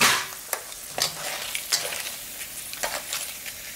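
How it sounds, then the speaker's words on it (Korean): Chili peppers fry in hot oil for gochu bugak, a steady close sizzle with irregular crackles and occasional stirring clicks, alone with no talk. "고추 이렇게 맛있게 튀겨졌잖아요"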